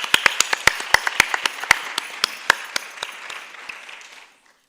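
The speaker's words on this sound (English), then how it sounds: "Let's give her a round of applause as well" An audience claps for a guru being welcomed onstage at a dance arangetram. The hand claps are distinct and fairly close, slowly thinning over about four seconds before stopping abruptly into silence.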